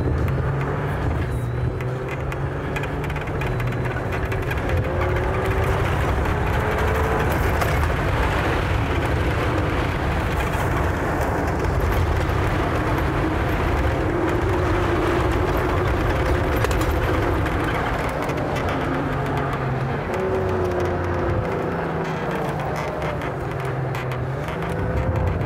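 A 4x4 vehicle crawls off-road in low gear with the transmission locked in Tiptronic, its engine a steady, loud, low drone with a faint whine and rumble holding throughout without a break, and no talking.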